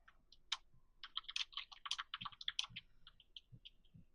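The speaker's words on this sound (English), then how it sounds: "Stop typing, damn it." Rapid, irregular clicking of keys on a computer keyboard, close and fairly quiet, in bursts of keystrokes with brief pauses and no talking.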